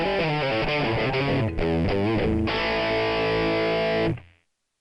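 An electric guitar played through the Mesa Boogie Mark IV amp model of an AdrenaLinn II rings out thick and distorted, with a loud chord riff, brief break, then sustained chords that stop and decay quickly.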